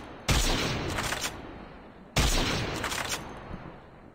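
Two long bursts of rapid video game gunfire, each starting abruptly and rattling on for about two seconds, loud and close with no talk over them.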